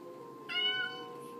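A fluffy white cat lets out one clear, drawn-out meow while asking for raw food, close by in a quiet room with a steady low hum behind it.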